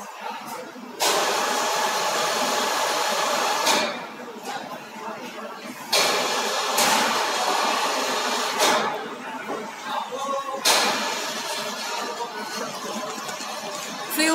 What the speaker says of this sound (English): Now we will show the UIUP testing process by our CR738 Comreal test bench.